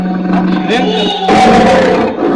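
A man imitates a lion's roar with his voice during a devotional storytelling recital, a loud, sustained, growling bellow that rises and then continues in a harsher, rougher second burst.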